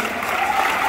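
Comedy show audience clapping, a dense steady patter of applause at moderate volume that holds for the whole moment with no voices over it.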